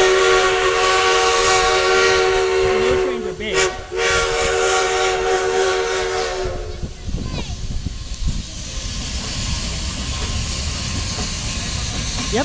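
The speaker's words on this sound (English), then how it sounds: "I stand behind the yellow line. The trains are big." A large train pulls through a station platform, its horn sounding loud and close with a hiss of steam before the rumble and clatter of passing cars take over, while a voice speaks at moments.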